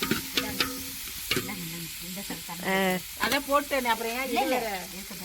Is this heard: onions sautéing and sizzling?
yes